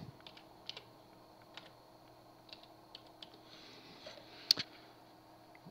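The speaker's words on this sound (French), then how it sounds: "Même si ici, je tape Audacity." Typing on a computer keyboard, likely the word Audacity: a few faint, sparse key taps over a quiet background hum, with one sharper click near the end.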